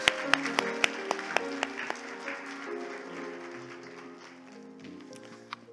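A Korean church congregation gives a brief round of applause. A handful of sharp, separate claps ring out at first and then trail off into softer, thinning clapping, with sustained musical tones lingering underneath.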